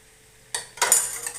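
A utensil scrapes and clatters against a pan as bitter gourd pieces are stirred in hot oil, two short bursts of stirring after a quiet start, with soft frying noise.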